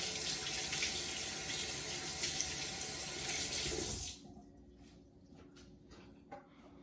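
Tap water pours steadily into a sink while a GEESTA reusable Nespresso coffee pod is rinsed. The strong, close stream runs for about four seconds, then cuts off, leaving quiet drips and faint handling sounds.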